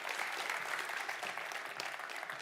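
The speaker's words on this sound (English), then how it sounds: "a big applause to Achilles" A conference audience breaks into continuous applause, a soft, evenly spread patter of many hands heard at a moderate distance in a hall.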